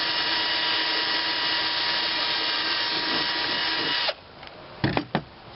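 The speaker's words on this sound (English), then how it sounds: "all we need to do is drill it" A steady, high-pitched power drill with an 11/64 bit whirs continuously for about four seconds, then stops, followed by a few short clunks and bursts.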